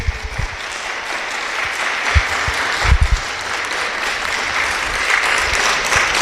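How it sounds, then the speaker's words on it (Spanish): A church congregation applauds its speakers in loud, sustained clapping that holds steady for several seconds, with a few heavier thumps mixed in. "Quiero que le demos un fuerte aplauso a nuestros expositores."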